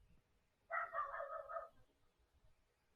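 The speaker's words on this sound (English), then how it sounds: "My God, my dog. That's my new dog." A single short dog bark or yelp, a new dog, heard close and clear for about a second against otherwise quiet room tone.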